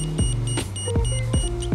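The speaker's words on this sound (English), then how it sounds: "one of the features of the Minolta Hi-Matic AF2 is that it will beep at you if you are too close to your subject." A Minolta Hi-Matic AF2 35mm film camera sounds its too-close warning, a quick run of repeated electronic beeps in a steady rhythm, close and clear with no talk.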